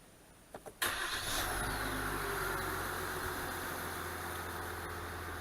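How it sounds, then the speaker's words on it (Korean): A Kia Mohave engine cranks over after a couple of short clicks, then catches and settles into a steady, loud idle that runs to the end. "시동을 걸어 보겠습니다"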